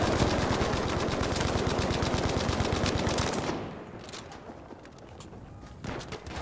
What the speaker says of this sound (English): That is suppressive fire if I've ever seen it.